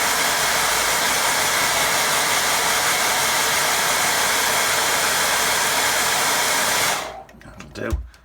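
A hair dryer blows steadily and loudly at close range for about seven seconds while drying watercolour paint, then switches off, leaving a few soft handling knocks.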